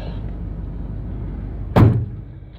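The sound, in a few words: closing a door of a 1978 GMC G30 motorhome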